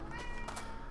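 A cat in the Minecraft video game gives a short, clear meow over faint game sounds.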